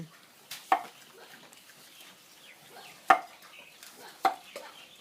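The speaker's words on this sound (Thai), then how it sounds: "แล้วก็มาหั่นเป็นชิ้นเล็กๆ เพื่อที่จะให้หมู อินทรีย์ของเราได้กิน" Leftover garden vegetables chopped into small pieces as feed for organic wild boar, heard as a few sharp, sparse knife strikes on a board against a quiet background.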